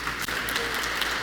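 A church congregation applauds in a continuous wash of clapping, fairly loud and dense across the whole brief moment, with a voice faintly mixed in.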